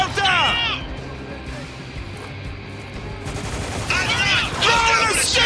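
Firefight in Spec Ops: The Line, with sustained bursts of automatic gunfire rattling at close range and loud shouting voices talking over the shooting throughout.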